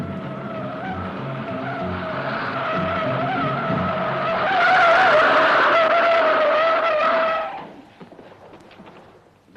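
A car accelerates hard with tires skidding and squealing, a loud, sustained wail that rises and intensifies mid-way, then cuts off abruptly, leaving faint background noise.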